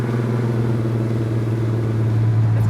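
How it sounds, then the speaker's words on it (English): A 1967 Hemi GTX convertible drives with its top down, giving a steady, deep engine rumble that holds close and even throughout, with no talk. "This car drives really good."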